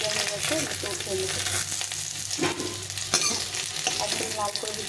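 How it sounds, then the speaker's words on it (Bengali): Potatoes and potol (pointed gourd) fry in hot oil with a dense, continuous sizzle, broken by occasional scraping stirs of a spatula against the pan. "আলু পটলগুলো ভাজা হয়ে গেছে,"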